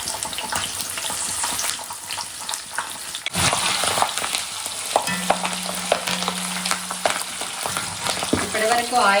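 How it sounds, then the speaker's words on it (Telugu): Green chillies frying in hot oil, with a steady crackling sizzle throughout that grows busier and louder midway, plus occasional clinks from stirring and a brief trickle of water near the end. "మనకు కావాల్సినన్ని పచ్చిమిర్చి కూడా ఆయిల్లో వేంపుకోవాలి."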